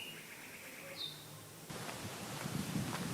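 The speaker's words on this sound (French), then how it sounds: "Le vent souffle." Wind picks up through a tropical forest during an approaching storm, a soft rushing bed that swells after the first second and a half with leafy rustling, a brief bird chirp early on, fairly faint and steady.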